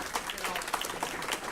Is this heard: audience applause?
yes